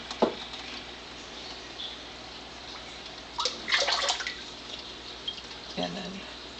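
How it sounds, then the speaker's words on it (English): Ionized water from a Melody water ionizer, made from New York well water, poured into a cup: a brief splash, then a short bubbling trickle midway and another brief pour near the end, faint and close. "I'll just go ahead and pour some of that in a cup."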